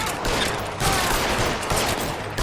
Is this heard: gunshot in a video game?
yes